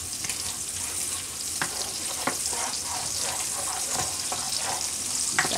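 Butter melting and sizzling in a pan as the base for a linguine clam sauce, a steady close frying hiss with small crackles throughout, no talking.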